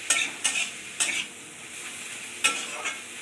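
Banana flower frying in a pan at home, a soft steady sizzle broken by several sharp scraping stirs of a spatula, close by and with no talk.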